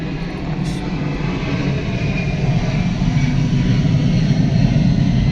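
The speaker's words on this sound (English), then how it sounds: "Airplanes." Airplanes pass overhead with a loud, steady low jet roar that builds slightly in strength as it continues, no voices over it.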